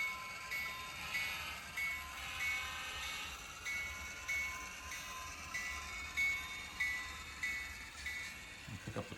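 A model railroad train runs across a plywood layout on a Northwestern Vermont-themed setup, giving a steady close rumble with faint thin squealing tones that rise and fade, and no voices over it.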